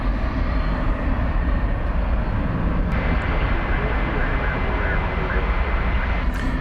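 Airliner on the runway after landing at DFW Airport, a loud continuous engine and rolling roar that holds steady as the jet slows to a stop.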